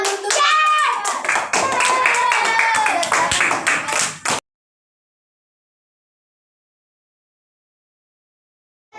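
Children clapping hands in a classroom, a burst of rapid overlapping claps with children's voices mixed in, lasting about four seconds before dropping into silence.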